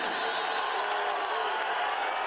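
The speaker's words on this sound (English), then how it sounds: "Here comes that Los Angeles crowd." A Los Angeles crowd roars steadily in a stadium at a women's football game, a dense, continuous wall of cheering with no breaks.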